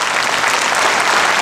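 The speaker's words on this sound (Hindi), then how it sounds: "सर के लिए जोरदार तालियां हो जाए" Audience at an Ahmedabad tribute concert for the nation's heroes giving loud applause for the production head, a thick, continuous roar of clapping hands, close and intense for the whole moment.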